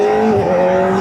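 A Kawasaki ZX-4R SE motorcycle runs at speed, its engine holding a loud, steady high-pitched whine close by for about a second, with no talk.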